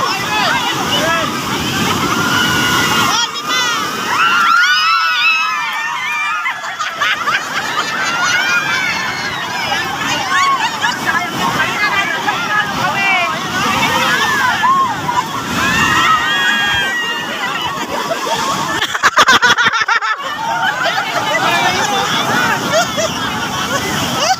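People at the seashore play a game, soaking their clothes in the sea to fill buckets. Fairly strong waves surge and water sloshes loudly, with constant crowd chatter and voices over the surf.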